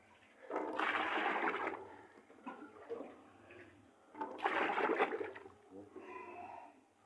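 Water is poured over small pig feed pellets to soak them, two rushing, splashing bursts of liquid a few seconds apart, fairly close, with quieter trickling and handling sounds in between.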